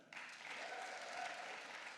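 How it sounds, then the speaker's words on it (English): Audience clapping steadily through an awards announcement at a literary society summer party, a sustained, even round of applause from a crowd heard at a moderate distance. "You might just keep the claps going"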